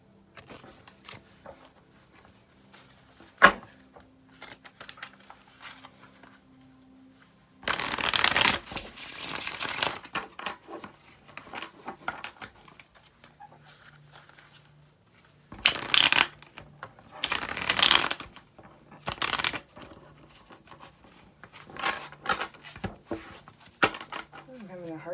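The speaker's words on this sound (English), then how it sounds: "I'm having a hard time shuffling like a slug tonight." Tarot cards shuffled by hand in several bursts of quick riffling and slapping, with a louder flurry near the middle and more brief shuffles later, separated by quiet pauses and small taps.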